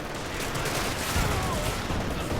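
Dual .30 cal machine guns firing in Company of Heroes 2, a dense continuous fusillade of battle gunfire on an icy map, loud and steady throughout with game sounds mixed in.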